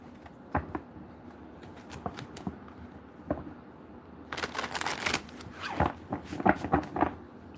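A deck of playing cards being shuffled up close, with scattered light riffles and taps first, then a denser burst of rapid flutters toward the end.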